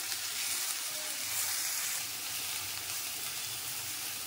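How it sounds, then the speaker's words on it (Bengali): Potatoes sizzle steadily in a hot pan during home cooking, a continuous bright frying hiss that holds at an even level throughout with no talk over it. "তো আলুটা একটু ভেজে নিয়েছি"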